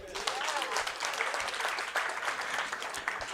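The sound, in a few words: audience applause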